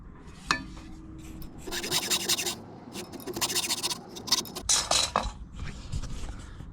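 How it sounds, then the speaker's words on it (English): A hacksaw cuts a very shallow groove in a plank on a Classic Mini Cooper RSP, making several short, close rasping strokes in uneven bursts with brief pauses between them. "with a hacksaw now I'll just make a very, very shallow cut in there, just enough for the fishing line to sit in"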